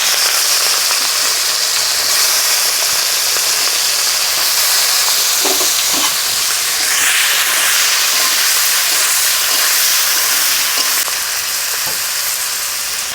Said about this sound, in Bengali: চিংড়ি মাছটা ভেজে নেবো, একই আলু ভাজার কড়াইতে ভাজবো।